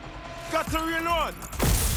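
A weapon is reloaded in Watch Dogs: Legion amid open-world combat in London, with mechanical clicks and a metallic slide heard close and mixed with voices and game sounds.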